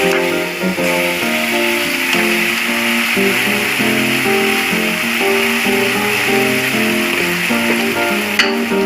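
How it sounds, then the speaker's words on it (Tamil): Boiled chickpeas stirred into frying masala in a pan, a loud continuous sizzle with scraping stirring strokes running throughout, close and steady with no talking. "இப்போ அதை போட்டு நல்லா அதில் கிண்டி விட்டுருவோம்."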